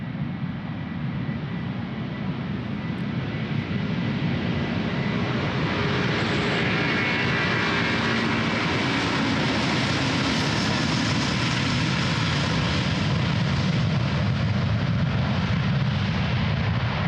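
Jet aircraft departing runway 36L at Amsterdam Schiphol Airport, a steady broadband engine roar that builds slightly and holds loud throughout, with no talking.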